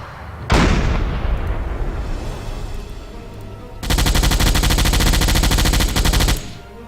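A submarine deck gun in Silent Hunter 4 fires high explosive shells, one loud blast decaying into rumble followed by a dense, sustained rapid-fire burst lasting several seconds.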